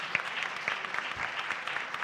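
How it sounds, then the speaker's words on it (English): A full house at a blockchain conference session breaks into applause for the panel, a dense, steady patter of many hands clapping that carries on for the whole moment. "Big, big clap."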